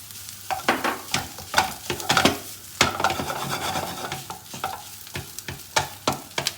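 Corned beef fries in a pan while being stirred, with a continuous close sizzle broken by repeated scraping and clinking strokes of the utensil against the pan.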